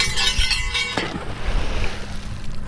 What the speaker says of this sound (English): that was a big splash